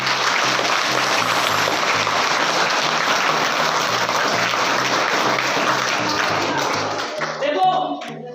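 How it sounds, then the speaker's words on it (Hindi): Loud, sustained applause from students in a motivation class, a dense continuous roar of clapping that fades toward the end, with a voice speaking over it. "तालियां बजाओ भाई जोर से"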